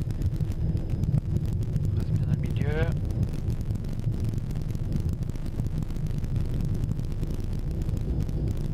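Strong crosswind from the right roaring and buffeting against the microphone throughout, with a brief spoken instruction in French partway through.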